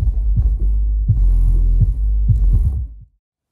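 Subwoofer driven by a compact Taramps Bass 400 amplifier, pounding out deep, loud bass in rhythmic throbbing pulses for about three seconds before stopping abruptly.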